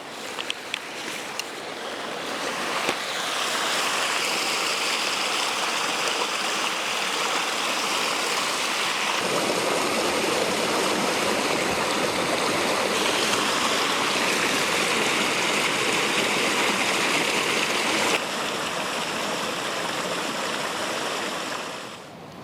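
A Dartmoor waterfall tumbling down a hillside roars steadily and loudly up close, a continuous broadband rush of cascading water that swells slightly partway through and fades at the end.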